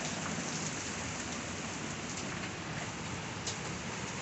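Hail storm pelting down outdoors, a steady dense hiss of many small impacts with a few sharper hits, continuous and fairly loud with no talking.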